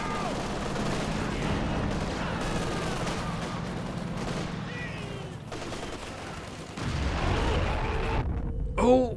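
Suppressing gunfire in the video game Company of Heroes 2: a dense, continuous battle din of rapid shots and crackling fire, steady and fairly loud throughout, with a brief sharper burst near the end.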